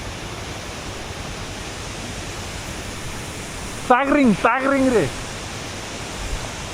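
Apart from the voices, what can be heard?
Tangring waterfall on the road to Manang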